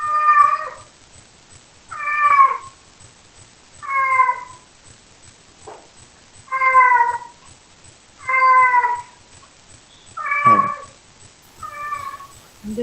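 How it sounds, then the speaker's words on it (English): A kitten mewing loudly and repeatedly, about seven evenly spaced cries every second or two, close and alone over a faint low hum. "There is a kitten mewing"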